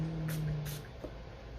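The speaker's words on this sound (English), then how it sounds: "spray that, spray that." Two short hissing bursts of a spray during a subwoofer recone repair, close by, with a faint hum underneath.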